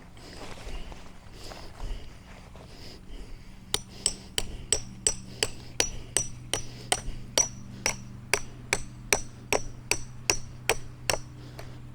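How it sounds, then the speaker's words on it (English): A hammer drives a tent stake into soil while a Coleman Elite Weathermaster tent is set up outdoors: sharp metallic blows, quiet at first, then a steady, evenly spaced run of about twenty loud strikes. "I'm hammering a stake in the soil."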